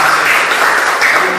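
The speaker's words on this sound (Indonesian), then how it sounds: "tepuk tangan dulu untuk" Applause breaks out in a classroom lesson on genetics, a dense, steady wash of clapping hands that stays loud and even throughout.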